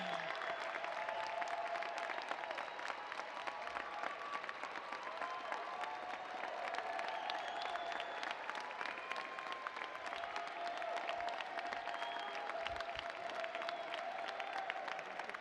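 A graduation convocation audience applauds, a steady, even wall of clapping from a large crowd heard at a distance, sustained without a break for the whole stretch.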